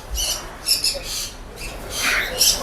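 Shrill bird squawks and chirps come in short bursts over a busy, noisy pet market in Mumbai. Several small birds call close by.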